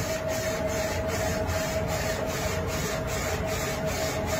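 A laser engraving machine works on shot glasses. It gives a steady mechanical whir with a constant high tone and a faint regular pulsing, close and continuous, with no talk.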